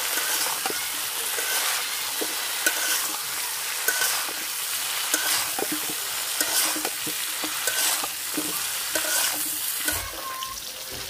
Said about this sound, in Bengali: কপি লাল লাল করে ভাজা নিচ্ছি